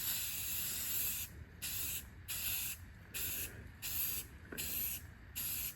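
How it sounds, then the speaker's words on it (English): An aerosol spray can hisses in short regular bursts with brief pauses between them, about seven sprays close by and fairly quiet, as paint or primer goes onto an old John Deere 70A part. "Now, I gotta find some primer to hit this with, and then we're gonna spray paint."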